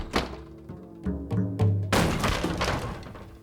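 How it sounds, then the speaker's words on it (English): Doors bang and thump in an irregular series of heavy knocks and slams, ending in a louder burst of clattering, set to a rhythmic pattern in a documentary sound piece. "That was the dance of the doors."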